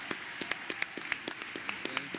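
Sparse, faint applause from a synod audience for retiring conference ministers, heard as scattered individual claps from a small crowd at a distance.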